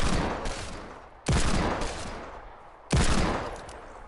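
Three loud, booming Desert Eagle hand-cannon shots ring out in the Fortnite video game, evenly spaced about a second and a half apart, each with a long decaying tail.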